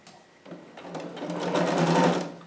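A domestic sewing machine stitching fabric for a harem jumpsuit, its motor whirring up from quiet to a steady rapid stitching hum that swells in volume and then eases off.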